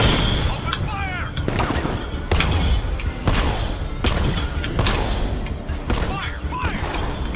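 Gunfire in Batman: Arkham Knight, loud sharp bursts repeating about once a second over a dense rumble of game action and scattered chirpy effects.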